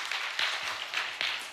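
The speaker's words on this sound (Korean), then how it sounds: "박수 한번 쳐주세요" Church congregation clapping during a service: light, fairly faint applause with a few louder bursts of claps over a short stretch.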